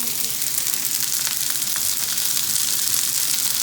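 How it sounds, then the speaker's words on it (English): Zucchini fries in hot oil that is close to smoking, giving a loud, steady, close-up sizzle and crackle that holds at an even level throughout with no speech over it. "I'm going to go ahead and put the zucchini in and start"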